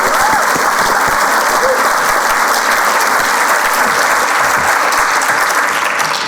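An audience at a startup pitch showcase applauds a finalist's pitch with loud, dense, continuous clapping that carries evenly from start to end and drowns out everything else.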